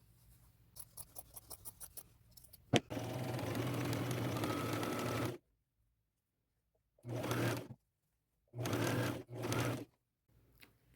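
A sewing machine stitches a thrifted dress in bursts: a run of quick ticking, a long steady whir, then several short whirring spurts separated by silence, close and moderately loud.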